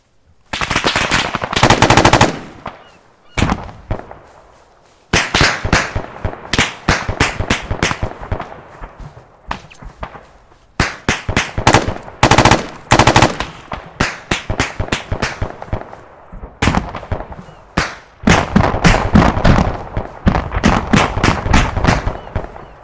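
Arma 3 AI vehicle fire on buildings in a video game: bursts of rapid, loud machine-gun fire and cannon shots in dense volleys with brief pauses, no talk.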